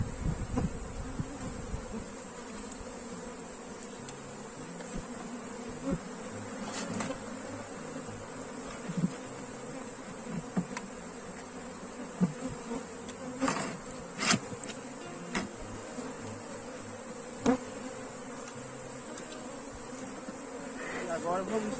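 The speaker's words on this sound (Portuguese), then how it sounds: "Então vamos ver se entra o máximo de abelha que puder." Honeybees swarm and buzz around a hive box as bees are coaxed inside, a steady dense drone with brief louder swells as individual bees pass close to the microphone.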